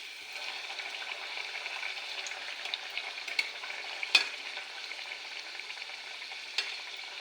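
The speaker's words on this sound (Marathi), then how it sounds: "असं डीप फ्राय करायचे." Matar kachori deep frying in oil over a low flame, a soft, continuous bubbling sizzle heard up close with a few sharp pops and faint clinks, no one speaking.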